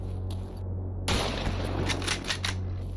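Gunfire in STALKER Anomaly: a dense burst of rapid shots starts after a short lull and carries on loud and close over a steady low hum.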